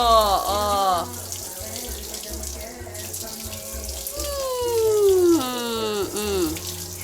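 Water runs steadily from a tap while a pet is bathed, with a continuous splashing rush. Rising and falling whiny vocal tones sound over it at times.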